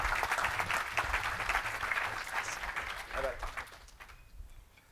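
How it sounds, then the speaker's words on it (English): Audience applause welcoming guests at a CCIM Portland/SW Washington commercial real estate event, a room full of clapping that starts strong and gradually thins and fades over a few seconds. "a big warm welcome and a round of applause for our guests"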